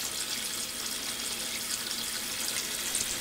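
Water being dumped through the top lid into a basement sump pit, a steady continuous rush of pouring liquid at moderate level throughout, with no voices.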